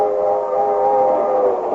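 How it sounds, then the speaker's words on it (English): A crack streamliner train rolls through a radio-drama scene, its steady, sustained, horn-like tone droning loudly and evenly for about two seconds with no voices. "rolls the crack streamliner this afternoon"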